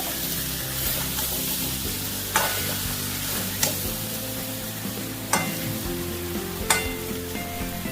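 Chicken curry with potatoes is stirred and fried in a pan, a continuous close sizzle with scraping spoon strokes and a few sharp clanks against the pot, with no voices.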